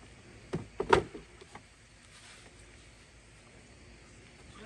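A panel of a folding bartender and DJ station slides into place with a brief scrape and a soft clunk near the start, then a quiet room hush.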